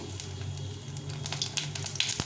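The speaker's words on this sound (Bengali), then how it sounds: "তেলটা গরম হয়ে গেছে আর এই সাদা জিরে নিয়েছি সাদা জিরে দিয়ে দিলাম" White cumin seeds sizzling in hot oil in a pan, a soft continuous crackle with sharper pops near the end, heard close and alone.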